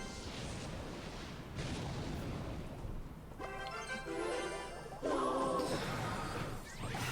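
Clash Royale mobile game battle audio with a fireball spell: dense rumbling whooshes and crashing impacts fill the clip, joined midway by bright chiming musical tones, loud and continuous with no voices.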